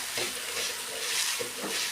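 Tomato thecha being crushed with a metal pot on a hot tawa after the gas is turned off: a dense sizzle with rhythmic grinding thumps at close range, about one press every half second, no speech.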